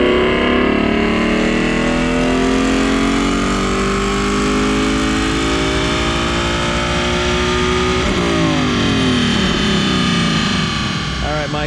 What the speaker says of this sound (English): We got our first dyno pull of the day. Roush Stage 2, naturally aspirated 15 up Mustang.